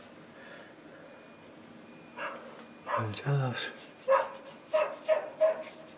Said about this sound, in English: You've got the yappy dogs to keep us company.